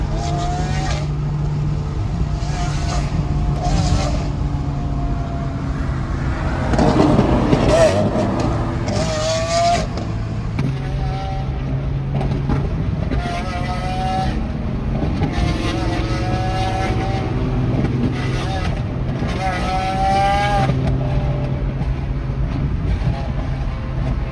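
A straight-piped Lamborghini Aventador V12 revs hard at a large exotic car rally in Texas, its loud, rasping engine rising and falling repeatedly while excited voices talk and shout nearby.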